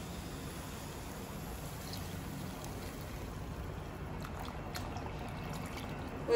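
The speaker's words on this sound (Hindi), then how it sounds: "अब हम इसमें ऐड करेंगे पानी।" Water poured into a pav bhaji mixture while cooking at home, a steady, even rushing pour that runs unbroken for several seconds with no voices.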